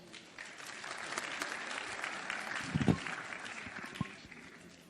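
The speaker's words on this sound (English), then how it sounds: "Round of applause, please." Applause from an audience at a startup pitch competition, a steady wash of clapping at moderate distance with a faint voice briefly audible underneath.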